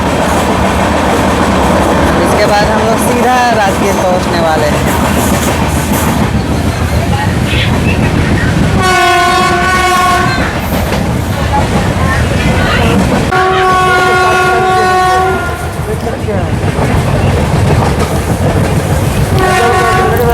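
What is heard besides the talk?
passing goods train crossing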